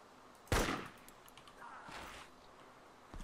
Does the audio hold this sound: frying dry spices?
no